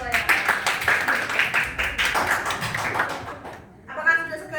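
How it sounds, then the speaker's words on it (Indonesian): A class of students claps together during a classroom ice-breaking game, a dense patter of many hands filling most of the stretch before dropping off, with a voice speaking over it at the end. "oke, tepuk tangan semuanya."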